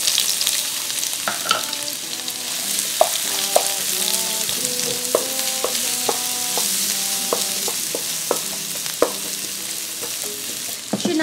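Four cloves of minced garlic and onions frying in a pan, a constant close sizzle broken by scattered pops and crackles, with no one talking.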